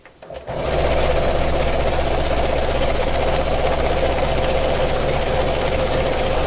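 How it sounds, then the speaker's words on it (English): A sewing machine stitches a seam straight down the centre of layered fabric, starting up after a brief pause and then running steadily with a close, even mechanical whir and rapid needle clatter. "then we'll sew straight down the centre"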